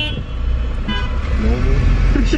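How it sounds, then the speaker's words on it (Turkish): A car horn honks in busy Turkish street traffic, with short tooting bursts over a steady roar of engines and road noise, and voices faintly present. "bizim şu Türk insanı gerçekten eli kornada geziyor ya"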